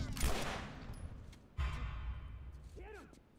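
Two sharp gunshot bursts ring out in a Pedro Pascal simulator video game, each with a fading tail, followed by a short vocal sound.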